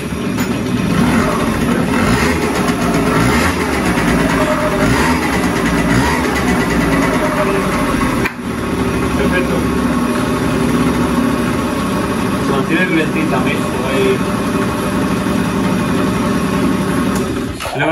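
A Yamaha Aerox scooter engine, with a freshly cleaned carburetor, runs steadily at idle, a continuous rumbling putter with a brief dip midway, close by with faint voices underneath.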